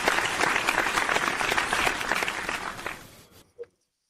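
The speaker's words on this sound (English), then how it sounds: "let's give a round of applause to George" Audience applause for George at a sports talk event, dense clapping from a crowd lasting about three seconds before tapering off into near silence, with a brief sound near the end.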